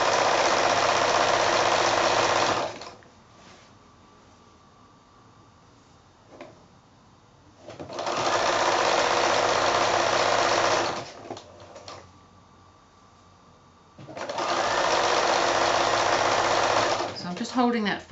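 Sewing machine stitching binding onto quilted placemats, running in three loud sustained bursts separated by quiet pauses with faint handling sounds.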